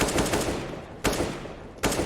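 Automatic rifle fire rings out in Counter-Strike: Global Offensive, three loud sharp bursts about a second apart, each trailing off into a lingering rattle and echo.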